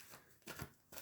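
Tarot cards being shuffled during a reading, a short 1-second burst of soft riffling and papery flutter in two quick bursts, close and quiet, with no talking.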